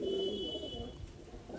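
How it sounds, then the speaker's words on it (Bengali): A young pigeon bred from a local domestic pigeon and a fancy breed, cooing in a low, soft, steady hum close by with no talk over it. "এই যে এটা হচ্ছে একটা দেশি পায়রার সাথে একটা পর্বনের পেয়ার হয়েছিল"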